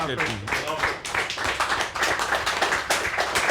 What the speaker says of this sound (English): Thank you, applause for Fraser.